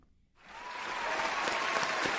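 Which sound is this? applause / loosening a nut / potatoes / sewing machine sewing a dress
applause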